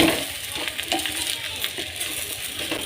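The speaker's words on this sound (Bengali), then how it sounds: "এই পিঠটা একইভাবে হালকা লাল করে ভেজে নেব।" An aloo paratha fries in oil in a pan, giving a soft, steady sizzle with small crackles and light scraping, close by and without talk.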